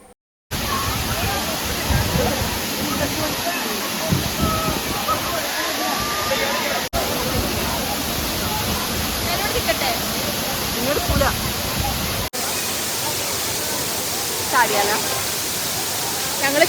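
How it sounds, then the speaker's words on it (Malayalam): Steady, loud rush of a forest waterfall at Anayadikuthu near Thodupuzha, broadband water roar filling the whole clip with brief cuts between shots. "നല്ലൊരു വെള്ളച്ചാട്ടം"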